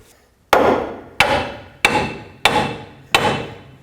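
Five sharp metallic hammer blows at an even, steady pace, hammering a front lower control arm into place on a 2007-14 Chevy Silverado, each ringing briefly before the next strike, loud and close with no voices.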